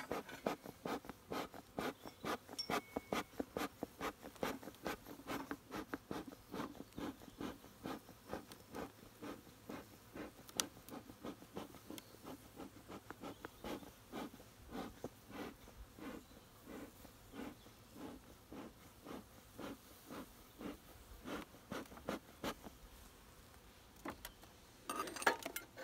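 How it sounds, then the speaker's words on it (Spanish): Honeybees swarm around an apiary as hive supers are lifted off, their buzzing a steady drone beneath a string of sharp ticking and clicking knocks from the handling, fairly close and continuous throughout. "Tiene muchísima abeja."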